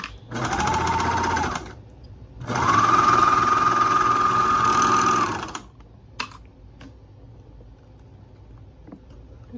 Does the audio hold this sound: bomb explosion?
no